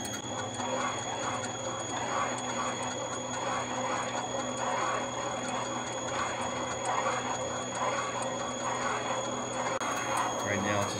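A radius cutter grinds a valve seat in a cylinder head being fitted for an oversized valve, giving a steady, even mechanical whir with faint chatter and a constant tone, while someone talks over it.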